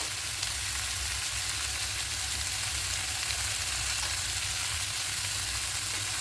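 Ground coriander, cumin, turmeric and chili powder are stirred into shrimp curry frying with taro, potato and eggplant, giving a loud, constant close sizzle throughout without voices.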